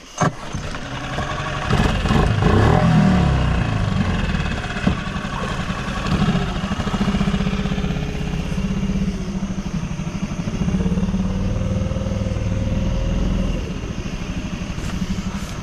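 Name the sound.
small fishing boat motor running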